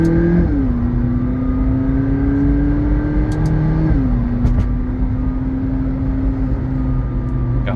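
A 2015 McLaren 650S is driven in manual mode, its engine droning loudly from inside the cabin, with pitch steps as it shifts gears and keeps accelerating.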